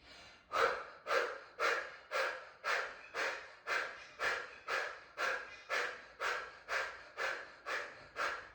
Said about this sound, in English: take another deep breath in and then short, sharp out breath, hugging the belly in.